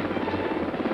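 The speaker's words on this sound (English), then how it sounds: "HH-3Es, modified for mid-air refueling, become the first choppers to cross the Atlantic non-stop." HH-3E rescue helicopter modified for mid-air refueling flies with a steady, loud rotor thrum and engine buzz that hold unbroken throughout.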